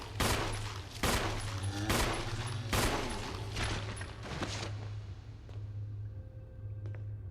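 Rapid bursts of gunfire from the Resident Evil HD Remaster video game, about ten loud shots fired in close succession over a steady low hum. The shooting thins out toward the end.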